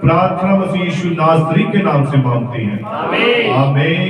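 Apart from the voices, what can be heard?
No distinct noise like a dog, phone or traffic.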